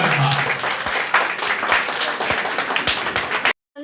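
An audience claps at an annual school function, with dense, sustained applause that fills the hall, some individual claps standing out, before it cuts off abruptly.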